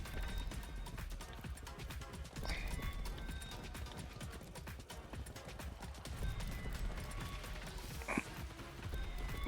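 Horse hooves clip-clopping in a rhythmic gallop in the video game Far Cry 6, steady and moderately loud throughout, with light mechanical clatter and a brief whinny-like accent near the end.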